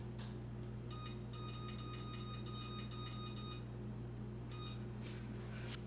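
An electronic kitchen timer beeps in a rapid run of high, steady tones, stops, then beeps again, over a constant loud appliance hum.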